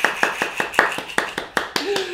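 A few people clap on a podcast set, about a dozen crisp, evenly spaced claps at close range, with a brief voice sound near the end.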